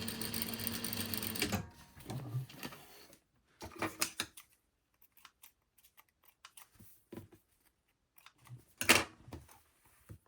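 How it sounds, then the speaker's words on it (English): A sewing machine stitches across a welt pocket in a quick, dense burst, then stops, followed by sparse clicks and handling noises at low volume. "So just sewing across."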